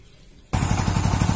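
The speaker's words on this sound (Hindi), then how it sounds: "अब इसके बाद हम बाइक को स्टार्ट करेंगे।" A Hero Splendor Plus motorcycle engine starts: after half a second of quiet background, the engine catches abruptly and settles into a loud, close, steady putter with a rapid regular pulse.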